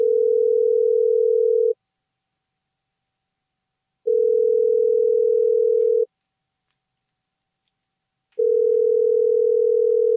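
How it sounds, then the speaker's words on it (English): A telephone ringback tone heard while placing a call: three loud, steady, close tones, each about two seconds long, separated by longer silences, with no talking. "Calling Tomas, a.k.a. Timothy"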